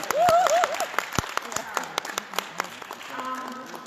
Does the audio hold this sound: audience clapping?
yes